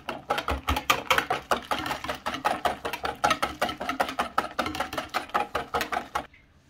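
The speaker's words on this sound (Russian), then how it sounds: "Все хорошо перемешиваю." A spoon or whisk clatters steadily against a bowl while stirring cabbage pancake batter of blended cabbage, room-temperature milk and vegetable oil; quick, even taps repeat close up for about six seconds, then stop.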